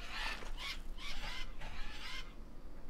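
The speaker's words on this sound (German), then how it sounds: "die Papageien hören sich irgendwie an wie Adler" Parrots calling in a jungle setting in the survival game Green Hell: a series of about five harsh, screechy bird cries in quick succession, moderately loud over a low ambient hum, then fading.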